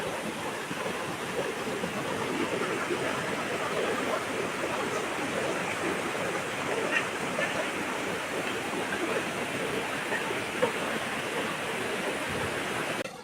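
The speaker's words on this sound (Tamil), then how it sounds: "இங்கே வேற குட்டி அருவி நாங்கள் கண்டுபிடிச்சிருக்கிறது" A small waterfall at Seetharkundu near Kollengode in Palakkad rushes in a steady, dense hiss of falling water. It stays fairly close and unbroken the whole time.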